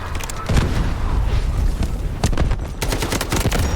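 Rapid bursts of AKM assault rifle fire in the shooter game Delta Force, loud and close, with dense repeated cracks running almost without pause across the whole stretch.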